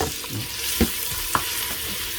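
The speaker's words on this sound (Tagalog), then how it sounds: "Let's saute the onions." Five medium onions sauté in a pan with a steady, close sizzle and a few soft scraping stirs, no voices over it.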